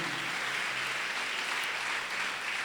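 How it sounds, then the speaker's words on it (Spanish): Congregation applauding the Lord during a Spanish-language church sermon, a steady, dense wash of clapping that holds evenly from start to finish without any voices over it. "Dale fuerte el aplauso al Señor"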